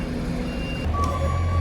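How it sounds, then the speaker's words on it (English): A JCB digger beeps repeatedly as it reverses, a steady tonal warning over the rumble of its engine nearby, with no voices. "Big job on with the JCB moving the picnic benches."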